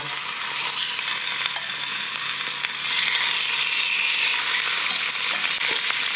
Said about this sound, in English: Make sure that oil is hot enough. See that, skin side down.